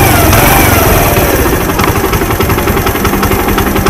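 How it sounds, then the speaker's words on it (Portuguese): A 2012 Suzuki Intruder 125 motorcycle, misfiring after sitting unused, runs loud and close with its carburetor idle screw adjusted, a rough, rapid pulsing engine note that holds steady throughout. "basicamente acelera a moto."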